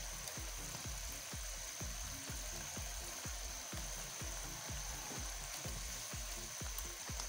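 Fish pieces go into frying masala for a Pakistani fish curry, producing a constant sizzle and hiss under a steady run of regular low thumping pulses.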